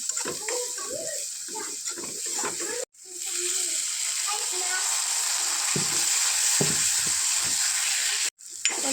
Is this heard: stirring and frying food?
yes